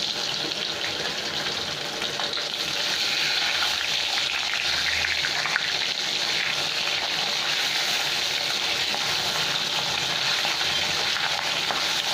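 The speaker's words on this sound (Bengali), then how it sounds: "এখানে আমার সব মাছগুলো ভাজা হয়ে গেছে" Steady, continuous sizzling of rohu fish frying in hot mustard oil, a dense crackling hiss that holds evenly throughout with no talking.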